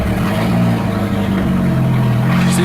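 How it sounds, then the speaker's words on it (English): Volkswagen Jetta engine running after a start, a steady loud low idle rumble with a slight rise in revs, close by and alone. "Let's start the car."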